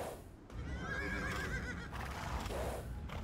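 A horse in the video game Age of Empires II neighs in a long, wavering whinny, followed by more snorting and whinnying sounds over a low rumbling background.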